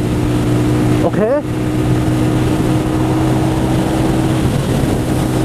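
A motorbike ridden on a cold road drones steadily and close, a loud engine hum with wind rush. A brief spoken word comes early, and a short whine sweeps past.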